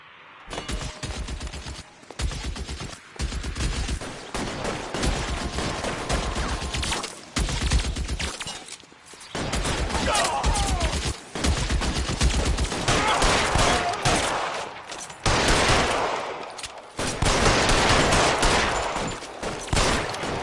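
Rapid bursts of gunfire crackle through a shootout in the video game L.A. Noire, close and loud, in repeated volleys broken by brief pauses.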